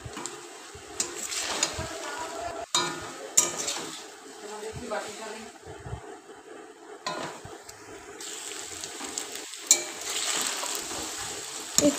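Macaroni being stirred together with egg bhujia in a pan, with repeated scraping and clinking of a utensil against the metal and a soft sizzle underneath, close and moderately loud.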